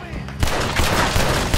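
Gunfire breaks out in a Red Dead Redemption 2 outlaw camp, a loud, dense volley of shots starting abruptly and continuing as rapid overlapping cracks, with voices shouting underneath.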